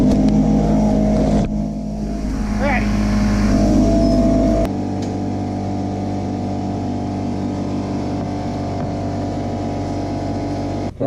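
A Predator 212cc small engine on a drift trike drones loudly and steadily nearby, its tone dropping and settling into a lower hum midway.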